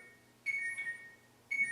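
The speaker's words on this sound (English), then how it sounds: "So that's the persistent alarm." A Thermoworks Signals BBQ thermometer sounds its persistent high alarm, two bursts of bright electronic beeping separated by a short gap, close and clear against a quiet background.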